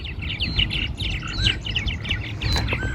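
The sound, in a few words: purple martins at bird houses by the lake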